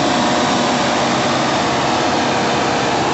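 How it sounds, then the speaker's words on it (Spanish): A Case IH Farmall 105N tractor labours through very hard ground, its engine a loud, steady, close drone that stays at an even, strained pitch the whole time, with nothing else heard over it. "Vean cómo cuando está el terreno muy duro, el tractor reacciona"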